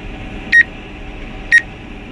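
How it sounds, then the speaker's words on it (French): Two short electronic beeps from a farm drone's obstacle detectors, spaced about a second apart, clear and close over a low steady engine hum. "sinon le drone il bip avec les détecteurs"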